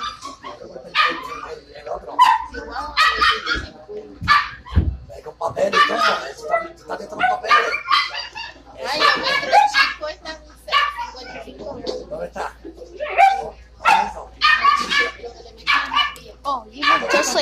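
Many dogs for sale in a dog store bark, yip and whimper in quick, overlapping bursts close by, while people, including a child, talk throughout.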